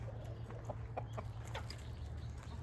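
Several chickens cluck softly in a backyard coop during fall cleanup, with short clucks repeating irregularly at moderate distance over a low steady background hum.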